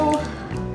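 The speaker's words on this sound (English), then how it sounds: "Add my oil." Oil poured into mashed banana and egg batter for upside down banana bread, a brief soft liquid glug and drip close by in a home kitchen.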